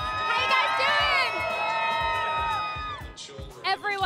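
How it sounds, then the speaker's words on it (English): Thousands of San Francisco Giants fans cheer and shout at a World Series celebration outside City Hall, a loud continuous crowd roar with whoops, fading briefly near the end before another burst of shouting. "We've got thousands of fans in the crowd."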